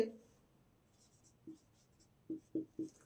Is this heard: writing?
yes